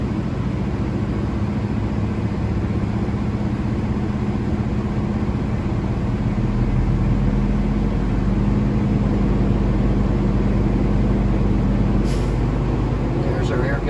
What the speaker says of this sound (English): Let's go ahead and give a little bit of gas and try to get the governor to kick on.